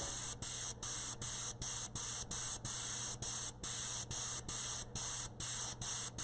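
Spray gun laying down House of Color Candy Apple Red paint, a bright hissing spray in short repeated bursts with brief gaps between passes.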